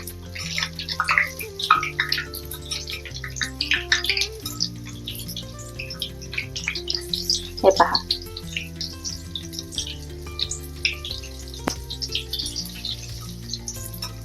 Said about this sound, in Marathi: मी आता ही सगळी भजी अशी तळून घेते आणि थोडी मंद आचे आचेवरती अशी छान तळून घ्यायची आहे